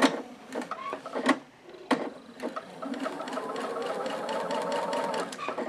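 A domestic sewing machine stitching a quilt seam for a log cabin block, starting with a few short bursts and then settling into a steady, fast whirring run of needle strokes.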